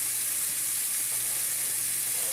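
Pohe, flattened rice, fries and browns in a hot pan, giving a steady, close, even sizzle with a faint crackle and no talking over it.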